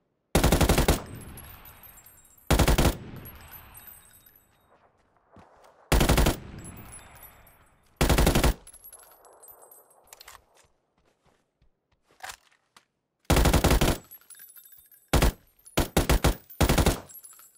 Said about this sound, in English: Listen to this M416.